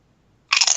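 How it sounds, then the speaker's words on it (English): Sharp, crunchy biting and chewing right up against a microphone, starting abruptly after a half-second of silence and continuing loudly and close in quick, uneven bursts. "Are you chewing into the mic or something?"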